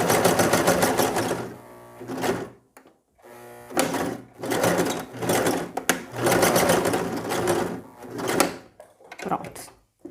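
A sewing machine runs in repeated loud bursts while stitching a reinforcement seam at the back opening of a straight skirt, with short pauses between runs and someone talking over parts of it.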